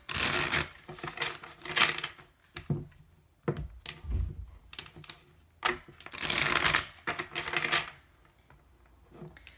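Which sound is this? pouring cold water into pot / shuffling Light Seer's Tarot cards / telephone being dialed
shuffling Light Seer's Tarot cards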